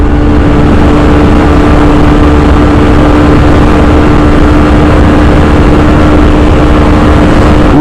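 A 2025 Hero Glamour X 125 commuter motorcycle cruising in fifth gear around 94–96 km/h, a loud steady engine drone with wind rush and no pauses.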